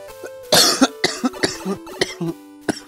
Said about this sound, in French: Tousser comme ça.